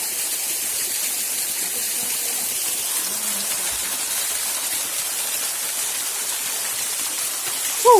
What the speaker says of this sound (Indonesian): Oh, ini air terjunnya.